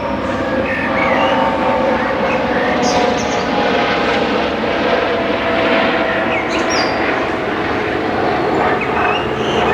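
An airplane passes overhead during a lunchtime yoga session, a broad steady roar that stays loud for the full stretch with no talk over it.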